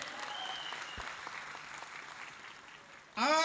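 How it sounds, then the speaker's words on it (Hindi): Audience applause at a Diamond Pandurang Borade event honoring parents and mentors, a steady wash of many hands clapping at moderate loudness, ending with a sudden loud burst of whooping voices. "तो उनके लिए जोरदार तालियां होना चाहिए"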